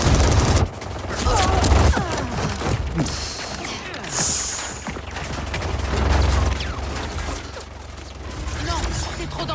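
Rapid gunfire bursts from the Mortal Kombat 11 video game, dense and steady across the clip, mixed with mechanical clanks and impacts.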